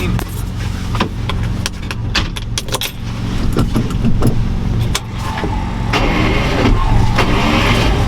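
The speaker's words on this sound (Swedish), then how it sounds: "starta upp maskinen igen" A diesel engine on an off-road truck, a Volvo TGB or Unimog, turns over and settles into a steady loud rumble close by, with keys jangling and metallic rattles over the top and no voices.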